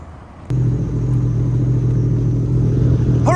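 A Sea-Doo RXP-X jet ski engine with a Stage 1 Calas tune and cam starts abruptly and settles into a loud, steady low rumble, running close by with no talk.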